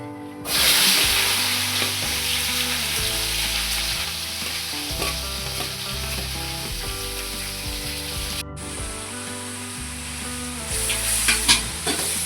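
Onions fry in a pan of hot oil with fennel seeds for a wedding-style biryani, giving a loud, continuous, close sizzle under repeated scraping and stirring, with no voices.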